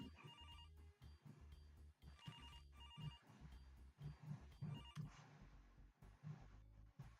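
A telephone rings repeatedly in a point-and-click game, a bright electronic ring pattern repeating in regular bursts over quiet background music, with no voices.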